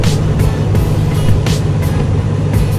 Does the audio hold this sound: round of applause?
no